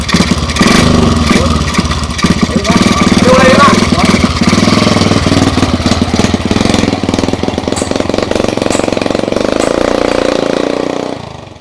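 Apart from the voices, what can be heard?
motorcycle engine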